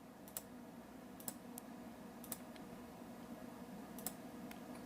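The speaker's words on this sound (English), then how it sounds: "I'm going to write this down on the calculator" Calculator keys pressed one at a time, a handful of light, sharp clicks spaced unevenly over a quiet background hum, close and faint.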